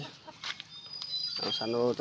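A domestic chicken clucks nearby in short bursts, ending with a louder run of clucks, with faint background noise from a rural home.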